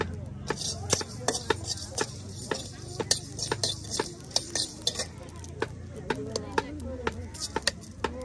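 Coriander and cumin seeds fry in a pan by a riverside while a spoon scrapes and stirs in quick, repeated strokes, with soft sizzling underneath and a voice talking over it.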